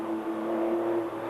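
A Mouton Tuthill Porsche 911 rally car on Michelin tyres, racing in the London to Sydney Marathon Rally, drives at speed with a steady strained engine drone and whir, loud and continuous, no voices.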